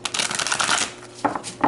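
Tarot cards being shuffled, a quick papery riffle up close and soft, followed by a couple of brief flicks as cards settle.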